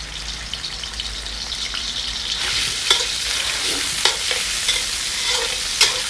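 Water spinach stir-fried in oil in a wok gives a steady sizzle, with a few sharp clinks of a utensil scraping the pan, close and moderately loud.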